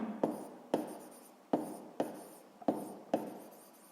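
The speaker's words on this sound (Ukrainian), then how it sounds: "Так, пишемо." A pen scratches out a sixth-grade math exercise by hand on paper, six short rasping strokes in quick succession, close and quiet with no voices.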